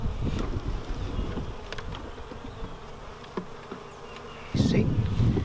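Honey bees hum and buzz continuously around a hive during an April inspection, a close, dense drone that swells louder near the end, with no talking.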